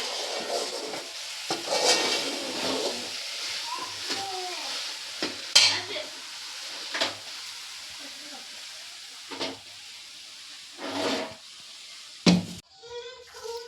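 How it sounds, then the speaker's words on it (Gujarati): Bottle gourd halwa (dudhi halwa) being stirred in a pan on full gas flame, with cardamom powder added, giving repeated scraping stirs over a soft sizzle, close and moderately loud, with a few sharper clatters near the end. "એલચી પાવડર ઉપરથી નાખશું તો હવે હલાવી નાખી મિક્સ કરી નાખી"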